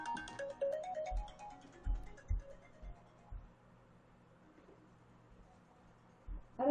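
A phone ringtone from an unknown caller plays as a bright repeating melodic chime, fairly faint and fading after a few seconds, with soft low thumps beneath and a brief return of the tone at the end.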